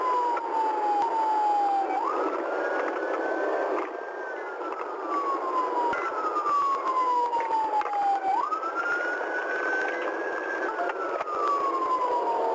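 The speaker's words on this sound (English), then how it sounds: "I followed him the whole way here with my sirens on" A police car siren wails steadily from close range, its pitch sweeping slowly up and down in long repeated cycles with no talking over it.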